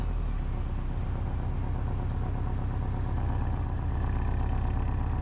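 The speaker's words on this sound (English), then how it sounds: "now let's go ahead and put this thing in Sport Plus. There it goes, the exhaust baffles will open." A Porsche 718 Cayman S flat-four idles with its exhaust baffles open in Sport Plus mode, a steady low, throbbing rumble close by with no revving and no talk.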